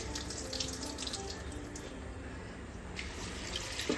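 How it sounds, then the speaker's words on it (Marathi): Running tap water splashes steadily into a vessel as lentils are rinsed, with soft swishing of the grains and no talking. "आपण नळाचं पाणी घेऊन ही वरची सर काढून घ्यायची असते"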